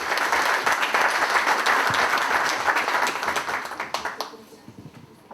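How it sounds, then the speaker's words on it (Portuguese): A lecture audience gives a dense, sustained round of applause for a visiting professor, the clapping holding steady before thinning into a few scattered individual claps near the end. "Uma salva de palmas."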